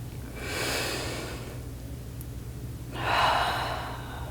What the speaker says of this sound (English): Taking one more full breath here.